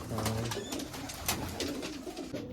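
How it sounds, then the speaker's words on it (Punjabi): Several pigeons coo nearby in a pigeon loft, soft, repeated throaty calls overlapping against a busy background of rustling and faint voices. "ਕਬੂਤਰਾਂ ਨੂੰ ਕੱਢਦੇ ਆ ਪਹਿਲਾਂ ਬਾਹਰ ਸਾਰੇ"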